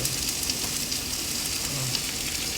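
Onion frying in a pan with a little oil, a steady soft sizzle running throughout at close range with no voices.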